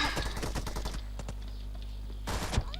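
Gunshots in the battle game PUBG: a quick burst of rapid automatic fire, then a pause with a faint lone shot, then another short loud burst near the end, close and sharp.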